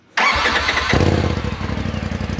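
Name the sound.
stock Polaris RZR 1000 turbo engine starting, before exhaust swap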